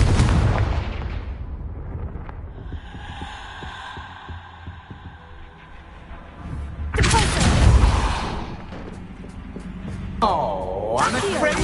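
Confringo blasting spells explode in Hogwarts Legacy, a heavy rumbling burst at the start, a quieter stretch, then louder booming blasts with crackling debris toward the end, amid game sound effects.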